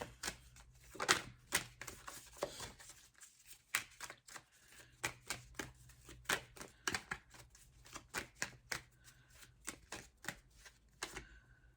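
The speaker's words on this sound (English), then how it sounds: "It's the shuffling that kind of takes the longest." A deck of tarot cards being shuffled by hand in a quiet room: a long run of quick, crisp riffles and slaps, steady and close, with brief pauses between bursts and no voices.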